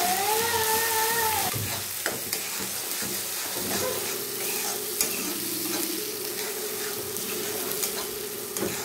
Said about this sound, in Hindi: मसालों को 2-3 मिनट भूनेंगे।